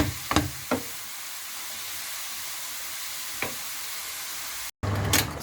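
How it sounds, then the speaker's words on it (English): Carrots and raisins fry in a pan with a steady, soft sizzling hiss, punctuated by a few sharp knocks and stirring taps of a utensil against the pan. "So I'm still frying it."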